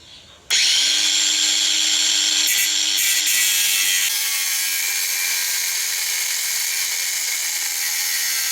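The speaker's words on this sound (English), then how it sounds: "I'm not trying to show doing this on the side of the road, so I'm going to go with the grinder." An angle grinder cuts through a chain rivet on a DR650 motorcycle, starting abruptly with a loud, sustained high-pitched whine that drops slightly in tone partway through as the disc bites into the metal.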